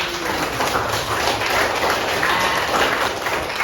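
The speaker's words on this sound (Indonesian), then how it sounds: "Kita kasih tepuk tangan lagi." Classroom audience applause, a steady dense wash of clapping that fills the short stretch at even loudness with no speech over it.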